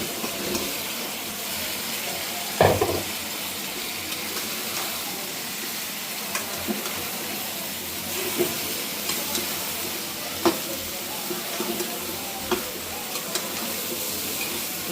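Bottle gourd fries in a pan of cooked-down spice paste and is stirred through it, with a continuous low sizzle broken by occasional sharp scrapes and knocks of the stirring utensil.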